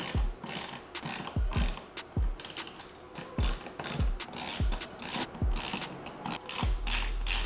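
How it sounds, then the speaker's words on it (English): Ratchet tool loosening screws on an Aprilia RS660 motorcycle, a series of close, sharp ratcheting clicks in short bursts with brief pauses between them, no voices. "I'm gonna start by releasing these screws up top."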